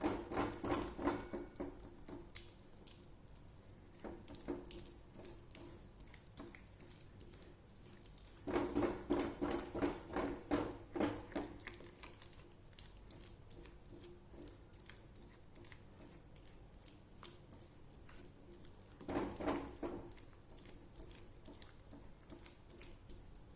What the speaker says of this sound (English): Keep stirring it to cool it.